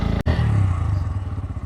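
A flatland stunt motorcycle, in gear on its side stand, catches with a sharp burst and settles into a close, throbbing idle with a quick regular beat.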